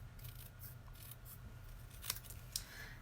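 Scissors trim a paper St. Patrick's Day banner close around its printed words, giving soft, quiet snips and slides, with two crisper, sharper cuts near the end and faint room hum beneath.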